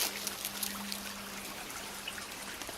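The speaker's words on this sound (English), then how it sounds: "Here's a little creek." A small creek flowing toward a culvert trickles and babbles softly and steadily, faint water burbling with a low hum running underneath.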